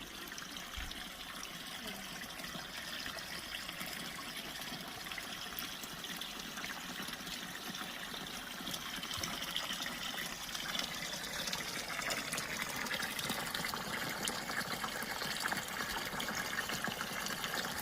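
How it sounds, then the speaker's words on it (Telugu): Fresh natural spring water trickling out from under a rock, a soft continuous watery hiss that grows slightly louder and fuller partway through, steady and alone without talk. "ఇక్కడ ఒక రాయి కింద నుంచి ఫ్రెష్ వాటర్ రావడాన్ని మనం గమనించవచ్చు"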